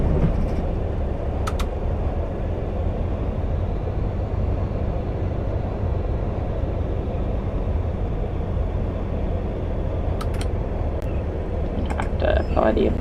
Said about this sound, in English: So let the train gradually slow down itself